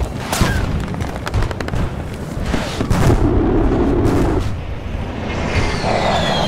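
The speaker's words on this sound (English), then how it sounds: "Skyhawk 2, target verified. Prepare for gun run." Airstrike gun run in Battlefield Bad Company 2, with loud, dense rolling booms and bursts of cannon fire that keep going through the whole stretch, with no talk.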